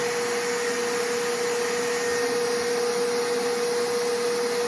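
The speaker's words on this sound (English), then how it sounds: "it goes through the grinder a little better" A meat grinder runs continuously while grinding hot sausage with fennel, giving a loud, steady motor whine with a strong constant hum that cuts off abruptly at the end.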